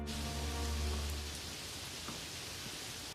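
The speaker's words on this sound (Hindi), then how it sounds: "थोड़ी बारिश भी हो जाती है।" Steady rain falls in a cartoon farm scene, a dense continuous hiss of drops with a low rumble at the start, even and unbroken throughout.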